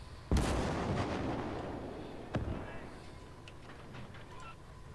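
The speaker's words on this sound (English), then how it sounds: "Enemy artillery!" Artillery fire in the World War II game Gates of Hell, USA against Germany: a heavy booming blast opens, a second sharper crack follows about two seconds later, and both roll out under faint battlefield noise and voices.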